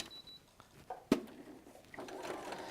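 A sewing machine starts stitching a quarter-inch seam joining two quilt blocks, after a single sharp knock, its steady whir running fairly quietly through the last second or so.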